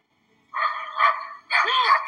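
A small dog barks twice in quick succession, sharp and fairly close, the second bark a little longer and whinier.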